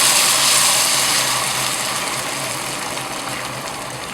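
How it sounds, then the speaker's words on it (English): Hot water poured into a pan of frying rice and onions for pulao, a loud hissing sizzle and gush up close that gradually eases over a few seconds. "Reduce the heat so that the water doesn't splutter, and then start pouring the water"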